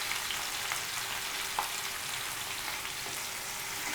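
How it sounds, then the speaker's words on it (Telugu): Chopped onion pieces frying lightly with cumin seeds in hot oil for an onion chicken curry: a continuous, even sizzle with faint pops and crackles, close and steady, with no voices. "ఉల్లిపాయ ముక్కలు కొంచెం లైట్గా ఫ్రై అవ్వాలండి"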